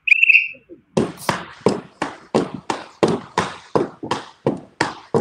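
Referee whistle blows one short sharp blast to start a 30-second ski repetition battle, then rapid rhythmic thuds and scrapes of skis follow in quick succession, loud and close.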